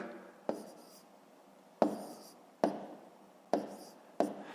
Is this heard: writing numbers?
yes